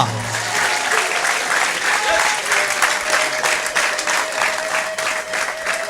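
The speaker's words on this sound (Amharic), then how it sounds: "እንደገና ለኢየሱስ በጣም ከፍተኛ ጭብጨባ" Loud, steady applause from a congregation at an Ethiopian church service praising Jesus, sustained clapping filling the whole stretch with crowd noise beneath.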